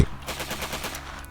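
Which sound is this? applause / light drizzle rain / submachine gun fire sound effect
submachine gun fire sound effect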